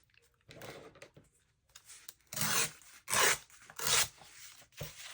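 Scissors trim paper for a page pocket with a hinged envelope, giving several short, close rasping snips separated by quiet pauses.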